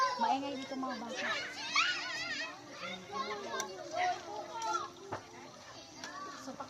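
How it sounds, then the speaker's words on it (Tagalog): Children shout, squeal and chatter nearby in a lively, overlapping din that continues the whole time. "Maingay dito mga bata."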